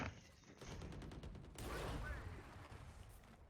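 Gunfire in Valorant during a match, a burst of rapid shots rattling in a quick sequence, moderately loud, with game effects and a voice talking alongside.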